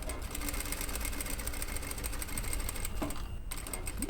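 A sewing machine stitches a curved hem, a fast steady mechanical whir with rapid needle ticking, close and continuous, with a brief dip near the end.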